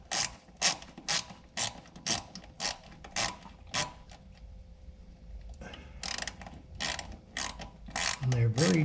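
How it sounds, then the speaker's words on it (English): A small 90-degree ratchet drives screws, giving quick bursts of sharp clicking in a steady rhythm, up close, with brief pauses between runs of turns. "if you don't have one of these little ratchets for putting screws in at 90-degree angles, I highly recommend one."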